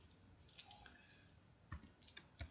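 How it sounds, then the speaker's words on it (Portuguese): Keys tapped on a computer keyboard while entering grades into a C# average-calculation program, a quiet scattered run of soft clicks with a short pause midway, heard alone without voices. "Vamos supor que eu vou digitar aqui as notas."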